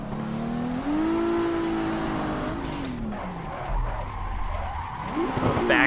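Car revving and skidding through a jump drift in a racing video game played on a wheel and pedals, the engine note rising and sliding with long tire squeals, loud and continuous, ending in a rougher scrape.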